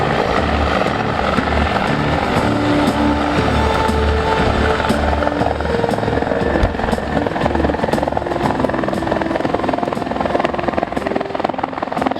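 A Griffin helicopter hovers at an airshow while lowering a rescue line, its loud continuous rotor chop and turbine whine steady and close throughout.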